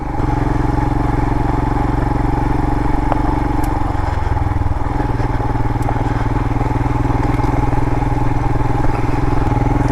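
A 2022 Royal Enfield Himalayan adventure motorcycle being ridden on a desert road in southwest Utah, with a loud, steady engine drone and wind rumble and a slight shift in pitch midway; no talking.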